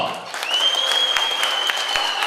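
Wedding guests clap in a hall, a brisk burst of applause from a crowd with a sustained whistle-like tone running over it, fairly loud and close throughout.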